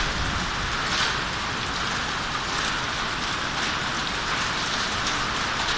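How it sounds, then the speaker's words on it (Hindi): Heavy monsoon downpour, a dense steady hiss of rain pounding surfaces without pause, loud and close with no voices. "इतनी ज़्यादा बारिश, ये देखें।"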